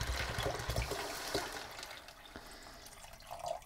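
Water poured from a tap into a pot of beans soaked overnight, a loud rushing gush at first that eases into a softer, steadier flow.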